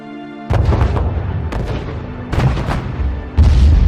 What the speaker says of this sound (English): Rockets continue to fire from Gaza, and massive explosions rock Gaza City.